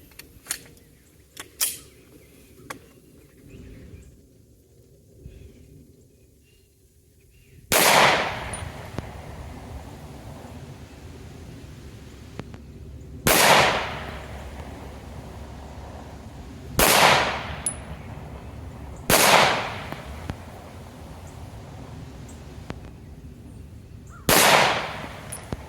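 Five loud, sharp Glock pistol shots firing 115-grain full metal jacket rounds ring out a few seconds apart outdoors at a range, each followed by a short decaying echo, after a quiet stretch with faint clicks and handling noises.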